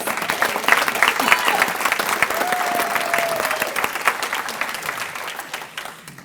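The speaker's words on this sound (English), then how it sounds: "So everybody give Lindsay a round of applause" Audience applause at a volunteer luncheon, a steady dense patter of many hands clapping that holds for several seconds, then thins and fades near the end.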